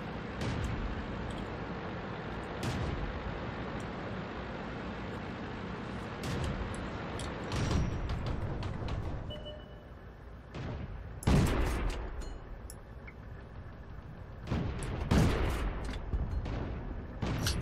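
A tank cannon fires in World of Tanks amid a continuous din of battle, with several sharp, heavy booming shots standing out at intervals, loud and close, over a steady engine-like rumble.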